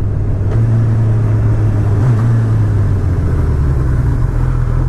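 A 2019 Honda CB1000R Plus motorcycle engine idles steadily at a gas station, a low, even rumble with a fairly quiet, constant hum and no revving, with no talk over it.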